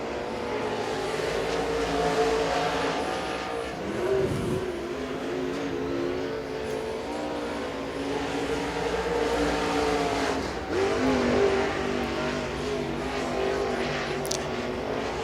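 A race car engine roars steadily, revving and shifting as it passes around the Rome Speedway track during qualifying, continuous and fairly loud throughout.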